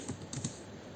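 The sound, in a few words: typing code on a computer keyboard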